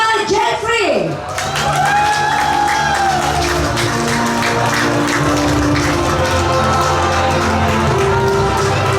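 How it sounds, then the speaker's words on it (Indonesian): Audience applause and cheering greet the winner of a singing competition on stage, a loud sustained crowd roar with whoops, tonal music-like lines and an announcer's voice layered over it. "kita berikan tepukan yang gemuruh kepada Jesta Jeffrey"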